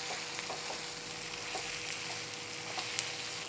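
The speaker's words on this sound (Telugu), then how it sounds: "ఇవన్నీ వేగుతుంటే ఆనియన్ కూడా కలిపేస్తున్నాను ఇందులో." Chopped onion frying in a pan over medium heat for a vegetable kofta curry, giving a steady, close sizzle with faint crackles and a few soft stirring clicks, no talk.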